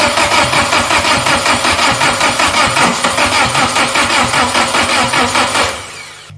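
A Renault 4x4 engine cranked by its starter for its first start: a loud, close, rhythmic churning that runs several seconds before cutting off abruptly near the end.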